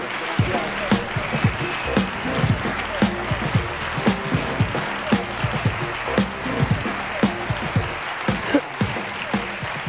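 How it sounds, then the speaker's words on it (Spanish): Studio audience applauding at a Spanish comedy podcast taping, a steady wash of clapping with sharper individual claps over a murmur of voices, continuous for the whole stretch. "Un aplauso para Julia de Algo"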